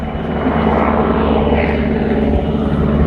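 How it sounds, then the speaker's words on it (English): A firefighting helicopter carrying a water reservoir passes overhead in Gran Canaria, its steady rotor and engine roar filling the air, loud and continuous throughout. "We've got a helicopter passing by."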